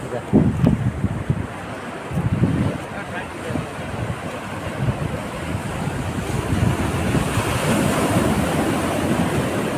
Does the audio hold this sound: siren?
no